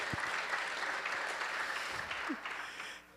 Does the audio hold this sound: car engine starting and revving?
no